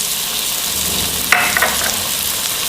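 Leftover boiled rice with carrots and cabbage stir-fried with chili sauce in a pan, a loud, steady sizzle with a brief scrape of a spatula midway, no talking.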